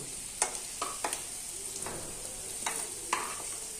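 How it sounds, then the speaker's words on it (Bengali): Banana flower frying in oil gives a soft, even sizzle with a few clinking stirs and scrapes from a spatula, close up and fairly quiet, no one speaking. "ভেজে নিচ্ছি। এটা প্রায় ভাজা হয়ে গেছে, সুন্দর লাল লাল হয়ে গেছে।"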